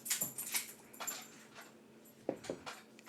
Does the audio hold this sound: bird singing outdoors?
no